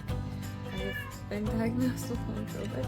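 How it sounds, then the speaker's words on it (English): A house cat meows insistently to be fed, several drawn-out close mews rising in pitch, heard over and between a woman's steady speech in a quiet room. "And that is the cat beckoning me to feed her."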